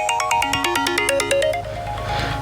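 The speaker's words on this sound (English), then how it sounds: "My phone's ringing." Mobile phone ringing beside a carp lake, a loud, close electronic ringtone of rapid rising melodic notes that fades into faint outdoor ambience.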